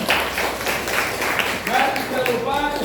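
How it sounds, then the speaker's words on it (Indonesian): A classroom of students claps together, a brisk, evenly spread patter of hands close by that continues steadily with a few voices mixed in. "kasih tepuk tangan untuk kita semuanya"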